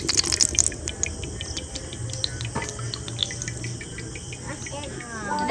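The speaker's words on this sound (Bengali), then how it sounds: "ব্যাঙের ডাক শোনা যাচ্ছে" Frogs croak outdoors during the first monsoon rain of Asharh near a village pond. A dense, steady chorus of rasping, cricket-like trills and pulses carries on throughout, with no voices.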